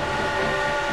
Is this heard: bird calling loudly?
no